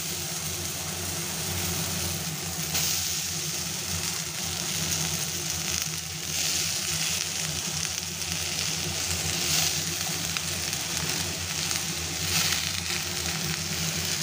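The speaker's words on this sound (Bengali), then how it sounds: "আমি আলুটা কেটে ধুয়ে এবং কিছু কুচো পেঁয়াজ দিয়ে নিয়েছি, যেটা আমি কড়াইয়ের মধ্যে দিয়ে দেবো" Cut potatoes and chopped onion fry in a dry kadai, giving a steady, fairly quiet sizzle and crackle that runs continuously without talk.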